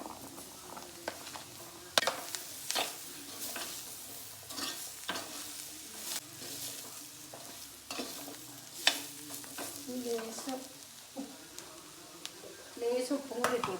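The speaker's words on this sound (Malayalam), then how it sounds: "ഇനി ഉരുളക്കിഴങ്ങ് ഇട്ട് കൊടുക്കാം." Potatoes go into a hot pan and sizzle in oil while being stirred, with repeated spatula scrapes and clinks against the pan over a steady fry, and faint talk in places.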